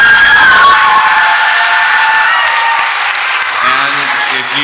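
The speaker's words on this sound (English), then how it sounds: "Big round of applause for everyone," Loud round of applause from an audience after a student poetry slam at a school event, broad dense clapping with some cheering and crowd voices mixed in, tapering slightly toward the end.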